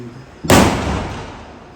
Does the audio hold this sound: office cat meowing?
no